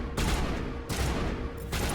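Rapid gunfire in the video game Mass Effect comes in three dense, loud bursts separated by short gaps, close and harsh, with no talk over it.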